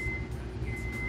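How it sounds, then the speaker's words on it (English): Vehicle reversing beeps in a steady tone heard over a low, continuous mechanical hum at a cruise ship terminal. "I apologize for the beeping noise."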